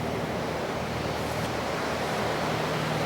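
River water rushes over rapids beside an old mill after recent rains, a loud, continuous roaring wash heard close by, with some wind buffeting the microphone and no voices.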